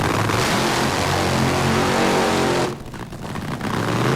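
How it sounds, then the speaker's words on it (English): A drag racing car at the 1995 NHRA Winston Select Finals in Pomona roars at full throttle during a burnout, a loud sustained engine howl that briefly drops away near the end before surging back. "Coletta's got the burnout done"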